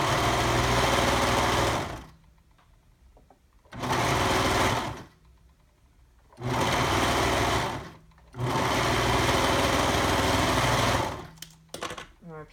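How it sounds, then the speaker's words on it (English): A sewing machine stitches lining and outer fabric layers together with a half-inch seam allowance, running loud and close in long bursts with quieter pauses between them. "And we'll sew these together"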